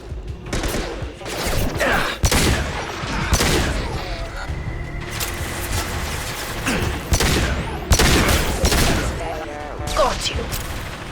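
Gunfire in Mass Effect 2, a male soldier's firefight with repeated loud bursts and rapid shots, booming impacts throughout, with occasional game dialogue.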